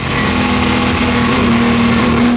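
Jaguar D-Type racing car engine pulling hard on a racetrack, a loud steady mid-pitched drone held at constant revs, close and continuous with no voices.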